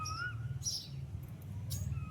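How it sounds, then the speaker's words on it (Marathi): Asian koel calling on a cool, overcast day, faint distant whistled notes repeating a few times over a low steady background hum, with no one speaking. "कोकिळा खू खू लागले करायला"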